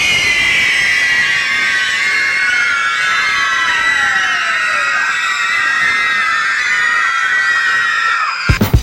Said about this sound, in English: this video of a group of kids screaming their heads off